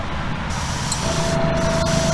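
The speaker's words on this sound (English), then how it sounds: "Test spray." A steady hiss of Createx paint from an airbrush, lightly misting a Hot Wheels Bone Shaker model, continuous and close, with a faint tone appearing partway through.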